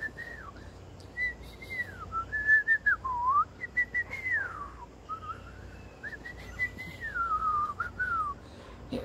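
A person whistles in a garden, imitating a bird with repeated sliding, warbling phrases that rise and dip. The whistling is fairly close and clear, with faint background hum and no talking.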